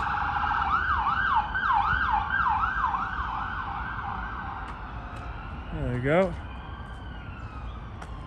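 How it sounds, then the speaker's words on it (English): Emergency vehicle siren wailing in a fast rising-and-falling yelp near Derry ~ Londonderry train station, loud and steady at first then fading, with someone speaking briefly toward the end. "Sirens everywhere, isn't it?"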